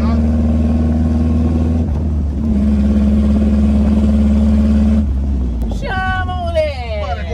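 Volkswagen Beetle convertible engine idling with a steady hum, then revved on the accelerator near the end with rising pitch, close and loud.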